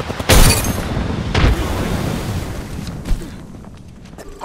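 A frag grenade goes off in the Apex Legends battle royale game, with a loud burst up front, a second heavy blast about a second later, then a rumbling decay and a smaller pop.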